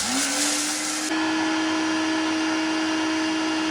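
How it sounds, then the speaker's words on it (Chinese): A high-speed blender grinds 200 grams of sago pearls into powder, its motor spinning up quickly and then holding a loud, steady whine with a dense grinding roar that runs the whole time before cutting off at the end. "首先把200克的西米给它倒进破壁机里面，然后用破壁机给它打碎"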